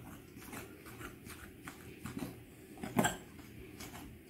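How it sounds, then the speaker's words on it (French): Flour and a pinch of turmeric are mixed for fresh pasta dough, a utensil scraping and clinking against a bowl in steady rhythmic strokes, with a louder clatter near the end. "je rajoute le reste de ma farine et je mélange bien le tout"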